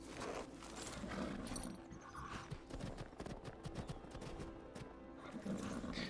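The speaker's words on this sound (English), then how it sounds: "You get a free horse now" A horse in the Skyrim video game clops steadily along with rapid, fairly quiet hoofbeats and a faint snort or whinny, no voices over it.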